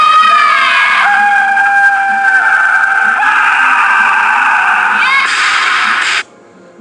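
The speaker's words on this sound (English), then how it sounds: "There's my scream." A weightlifter lets out a loud, sustained, strained scream during a 255 high hang snatch. The scream shifts pitch partway through, holds for about six seconds, then cuts off abruptly.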